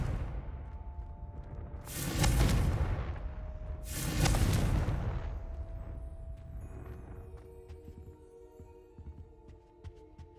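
A Confringo fire spell in Hogwarts Legacy fires two heavy, booming blasts about two seconds apart, each with a roaring burst that fades into a low humming tail.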